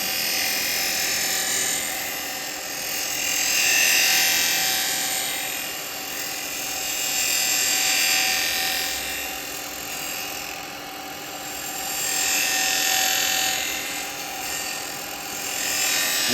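A wood lathe spins steadily as a detail chisel rolls beads into the workpiece, a continuous whirring hum with a scraping hiss that swells and fades in slow, regular waves.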